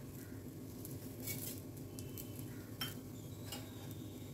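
Sesame seeds go into a pan of spicy modak amti with garlic and green chillies, and a spoon stirs them in with soft scraping, light clinks and a faint sizzle.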